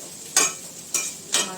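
Bitter gourd frying in a home kitchen pan, a steady soft sizzle broken by three sharp bursts of stirring or tossing, close and moderately loud, no voices.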